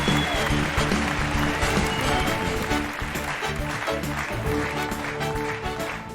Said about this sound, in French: Je vous demande d'applaudir les chercheurs qui travaillent sur ces maladies génétiques